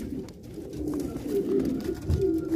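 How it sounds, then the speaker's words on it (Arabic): Broiler pigeons of a pure French breed cooing on a pigeon farm in Damietta, a steady low murmur of soft overlapping coos close by, with no talking. "واحنا ماشيين كده الحمام بيطارد يا جماعة"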